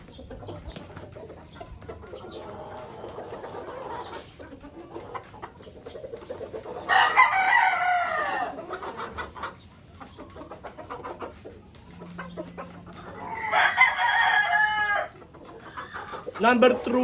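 A pure white Kelso gamefowl brood stag rooster crows twice, loud, drawn-out calls spaced several seconds apart, over a constant background murmur of other birds and low noise.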